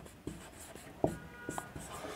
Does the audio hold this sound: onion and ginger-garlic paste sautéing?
no